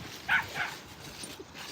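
Two quick, fairly faint dog barks close together over a low background hum, then quiet.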